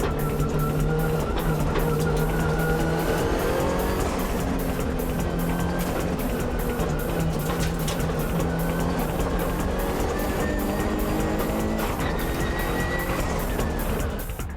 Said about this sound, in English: But Morito's Impreza is closing in on the downhill corner.